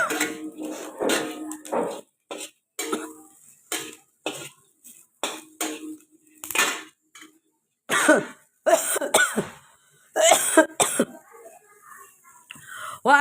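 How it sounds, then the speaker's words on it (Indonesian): Repeated harsh coughs and throat clearing from someone cooking with garlic and chili, the pungent fumes setting off bursts in irregular clusters, close to the mic, with faint kitchen clatter between them. "Baru kali ini gue masak sampai terbatuk-batuk."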